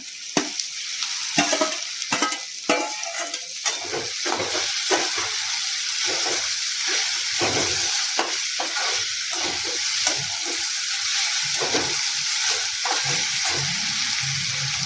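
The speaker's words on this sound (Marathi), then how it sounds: "आता भेंडी टाकून घेऊया।" Okra hits a hot pan and fries in a loud, steady sizzle, with repeated scraping stir strokes through the first few seconds and a constant hiss of oil and steam, with no one speaking.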